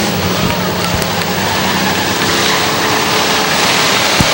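Race cars roar around the track during an 8-lap heat race at Hudson Speedway in New Hampshire, a loud, continuous dense engine drone with a race announcer talking over it.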